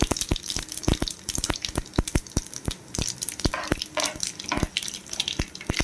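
Cumin and mustard seeds crackling in hot oil during tempering for a bitter gourd pickle, a busy run of sharp pops and spits over a steady sizzle, close and fairly loud, without talk.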